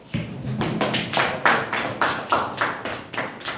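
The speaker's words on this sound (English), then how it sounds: "Please clap for your company" Audience applause for their company at a sales training session, a burst of fairly close hand claps and taps with uneven rhythm, rising and falling in several swells over a few seconds.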